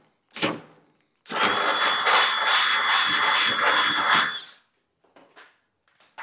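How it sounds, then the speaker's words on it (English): A power drill bores holes into a golf cart's metal frame while a rear lift kit is fitted: a short burst, then about three seconds of steady loud grinding whine, followed by a few faint clicks. "we're going to go ahead and drill two holes"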